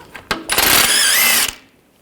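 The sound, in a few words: power tool removing nuts with a 16mm socket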